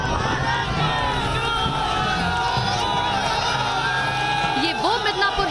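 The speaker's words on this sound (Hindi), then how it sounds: "हेलीपैड पर ही अमित शाह को देखने लोगों की भीड़ मौजूद थी।" A crowd gathered at a Midnapore helipad to see a politician arrive keeps up a dense, continuous murmur of voices and shouts at steady volume, with a few louder calls near the end.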